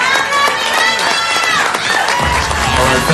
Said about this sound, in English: big round of applause, Barbara